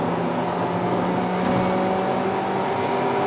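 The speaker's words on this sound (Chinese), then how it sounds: "油门踩到底 ，kick down button 也按下去" A 2015 Kia Rio 1.4 naturally aspirated engine accelerates at full throttle with kick-down, a steady loud drone with a rising engine tone heard from inside the car.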